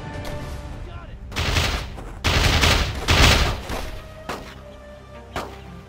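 Bursts of gunfire from the Code of Arms first-person shooter on PSP, loud clustered volleys in three heavy blasts followed by lighter scattered shots, over a faint game background with no speech.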